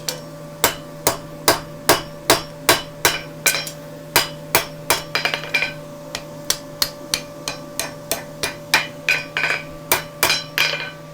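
A hammer strikes a hot horseshoe in a steady, ringing rhythm while forging, about two blows per second, sharp and close with no talking.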